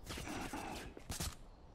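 Faint bursts of gunfire in the VR shooter Contractors, a quick cluster of distant shots with a louder crack near the end, low and muffled in the mix.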